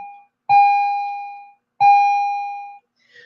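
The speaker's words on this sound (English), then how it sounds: "there goes the bell." A school bell sounds as two loud, clear electronic chime tones, each ringing about a second and fading, close and with no talk over it.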